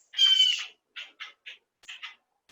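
Birds calling outdoors: one long harsh squawk followed by several short clipped calls, close and clear against silence.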